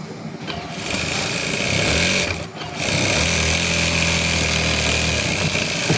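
A sewing machine runs in a fast steady whir while top-stitching a readymade blouse, with a brief pause midway before the motor picks up again and continues loud and close.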